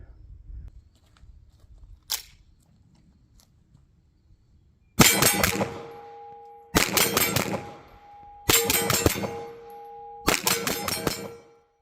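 A CZ75 B 9mm pistol fired rapidly at steel targets outdoors: four loud bursts of quick shots, each followed by ringing metallic clangs, separated by short pauses after a faint click and quieter opening.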